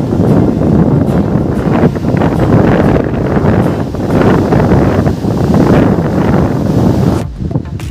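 Sea waves and strong wind at Payyambalam beach in Kerala, a loud continuous wash of surf and buffeting gusts filling the whole span close to the microphone.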